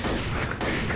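Rapid, continuous gunfire in Left 4 Dead as a dead body is shot over and over, a loud, dense rattle of shots filling the whole brief moment with a tiny break midway.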